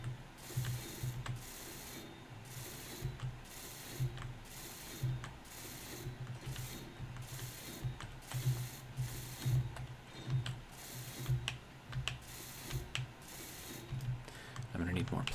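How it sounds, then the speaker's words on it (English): A welding tool in the video game Space Engineers works over a build, giving a rhythmic mechanical ratcheting buzz that pulses regularly at a fairly faint level, with a burst of louder noise at the end. "We'll just weld all of this up"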